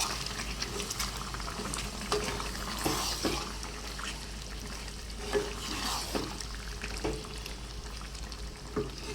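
Mutton with yogurt frying and being stirred in a pan, a steady close sizzle broken by repeated scraping, clattering strokes of the spoon every second or so.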